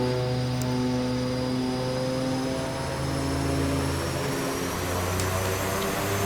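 Twin Otter DHC-6 turboprop engines run at takeoff power in X-Plane 11, a loud, steady propeller drone with strong tonal hum and a high whine, continuous for the whole stretch.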